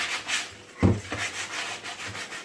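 Hand sanding of a homemade bird bath before it is painted, a few soft abrasive rubbing strokes with one firmer scrape near the middle, close and fairly quiet.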